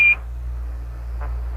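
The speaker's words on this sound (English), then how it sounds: "Roger, 1201 alarm." Apollo lunar module 1201 program alarm during the Moon landing descent: a short steady electronic tone at the start and again at the end, over a constant low radio hiss with no talk.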